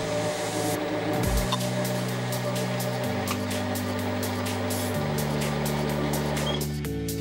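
A thumb wheel is knurled on a home-shop lathe: a steady motor hum with shifting pitch steps and a rapid, regular ticking texture throughout, loud and close, with no voices.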